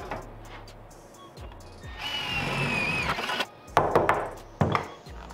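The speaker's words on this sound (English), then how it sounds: "I'm going to try to get this quarter inch hole knocked through our sheet metal." A power drill bores a quarter-inch hole through sheet metal, a whining, grinding burst of a second or two with a rising squeal, followed by clanks and handling knocks up close.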